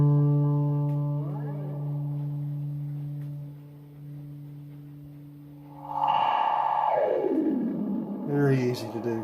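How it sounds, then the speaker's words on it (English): A Cicada delay-circuit pedal gives out wobbly, UFO-like electronic tones. Steady droning pitches bend and slide, then a brighter, swooping warble rises and falls toward the end, all at moderate loudness. "Let's see some UFO sounds."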